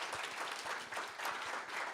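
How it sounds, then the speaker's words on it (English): An audience applauds presenters at an AI show-and-tell event, steady crowd clapping heard faintly from a distance with a few crisper individual claps. "So let's applaud them and say thank you."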